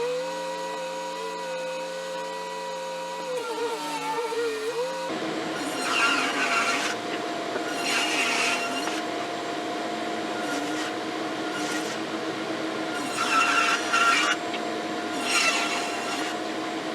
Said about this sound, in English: I ran it through the planer.